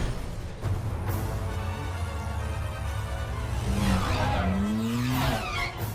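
A starship engine sound effect from the Star Wars series Ahsoka, resembling a muscle car, roars continuously and loudly, with a rising, revving pitch sweep near the end and no voices.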